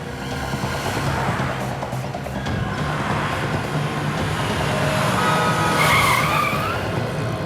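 A car pulling up and stopping with screeching tyres, a loud continuous engine and skid roar that builds toward the end, with no talk over it.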